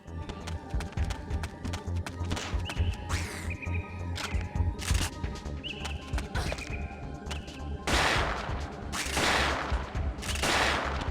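A shotgun fires in Parasite Eve II, heavy booming blasts at irregular intervals over game music and clatter, with louder, longer bursts toward the end.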